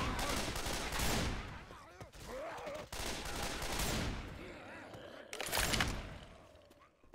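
Rapid automatic gunfire in the zombie shooter Left 4 Dead 2 during a custom survival round, several loud bursts separated by short pauses, with game voices and effects mixed in.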